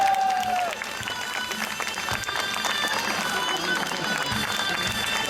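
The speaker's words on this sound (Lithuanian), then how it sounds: "Aplodismentai karalieniai bei jos riteriui." Applause from the audience at a knights' tournament, a dense wash of clapping that carries on for the whole span with crowd noise mixed in.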